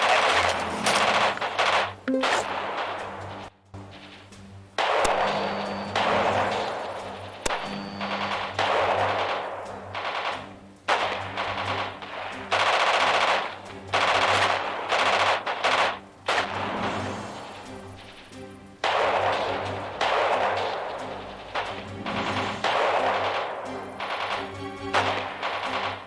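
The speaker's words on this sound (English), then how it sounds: "Machine gun firing coming from that hangar." Machine gun fire in a war video game, long loud bursts of rapid automatic shots repeating again and again with brief gaps, dense and close, with scattered heavier thumps between volleys.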